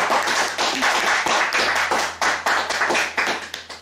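A congregation at a spiritual wedding ceremony claps loudly and close, with dense overlapping hand claps in a brisk rhythm that keep going for several seconds.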